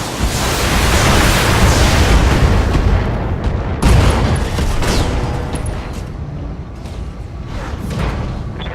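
Loud, dense barrage of mech weapons fire in the Battletech video game, with booming blasts and rushing explosions layered continuously, one heavier impact midway, then a slightly thinner rumble toward the end.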